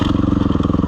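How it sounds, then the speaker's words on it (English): Suzuki RMZ dirt bike engine revving steadily on a loose, rocky trail, a close, loud, pulsing engine note with a fast, regular rhythm and no talk over it. "I'm on the Suzuki today, the RMZ."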